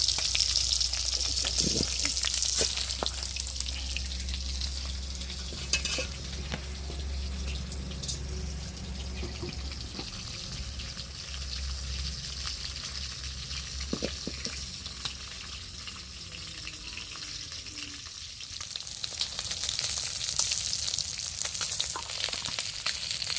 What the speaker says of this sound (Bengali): এদিকে মাছ ভেজে চলছে